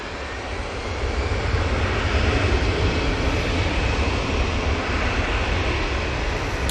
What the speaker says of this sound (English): Off to Antalya with this A320-200 through EasyJet.